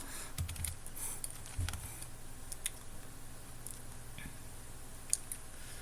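Code being typed on a computer keyboard: soft, irregular key clicks in quick scattered bursts, fairly quiet over a low steady background hum, with no talking.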